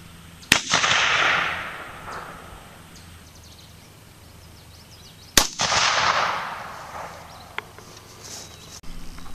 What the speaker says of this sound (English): I'm going to shoot a group with this red dot with the 122 grain Tula ammo,